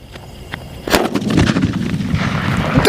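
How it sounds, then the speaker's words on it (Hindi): A BMW sutli firecracker lit and set off during Diwali fireworks testing bursts into one loud, close blast near the one-second mark. A dense crackling roar then fills the rest of the moment. "और ये लगाई BMW सूतले को आग"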